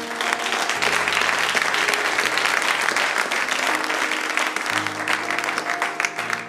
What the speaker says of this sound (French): Est-ce que nous pouvons acclamer pour la parole?